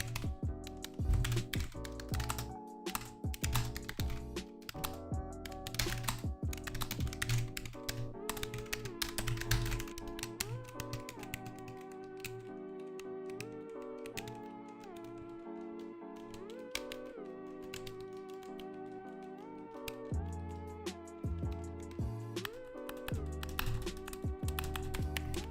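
Typing on a Logitech G915 wireless keyboard: quiet, rapid key taps patter continuously in close, soft clusters, with faint tonal sounds running underneath.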